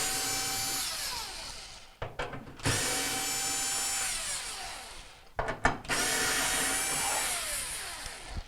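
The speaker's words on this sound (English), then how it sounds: "We're also going to remove the latch at this point, and they're T20 Torx bits." A power driver fitted with a T20 Torx bit backs screws out of the latch on a Whirlpool washer, three sustained whirring bursts separated by short clicks and clatter, loud and close with no talking.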